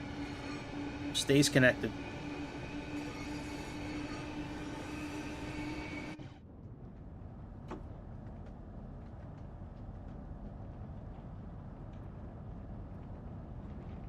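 A fast electric train in a video game runs along a line with many tunnels, a steady rolling rumble with a brief wheel squeal early on. The sound drops to a quieter hum after about six seconds, and a voice talks briefly.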